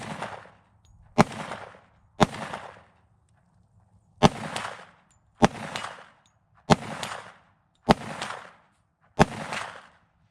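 Eight sharp gunshots from a Tisas 1911 Night Stalker 10mm pistol, fired at an irregular pace at a steel plate 50 yards away, each loud crack trailing off into a brief echo.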